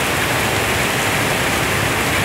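Steady rain pours down in a dense, unbroken hiss, loud and close throughout, with no voices or other sounds.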